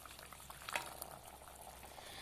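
Magur fish and ridge gourd curry with potatoes bubbles in a covered pot, a soft steady simmer with faint pops and a light clink near the middle.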